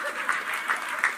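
Audience clapping at a large Islamic religious gathering in Parakan, a dense steady patter of many hands with a few louder swells, filling the whole moment without any voice over it.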